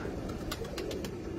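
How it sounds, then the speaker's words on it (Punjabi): A Nawab pigeon cooing softly at a loft, a few faint, low repeated coos over a steady background hum. "20 ਨੰਬਰ ਕਬੂਤਰ ਹੈ ਜੀ"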